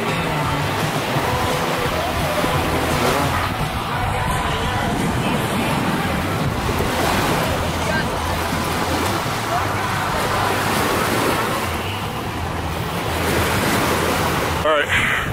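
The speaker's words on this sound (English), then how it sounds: "we're getting down to the beach" Ocean surf washing onto the beach at Half Moon Cay, a steady broad roar of breaking waves with wind buffeting the microphone, continuous and fairly loud throughout, with faint voices in the background.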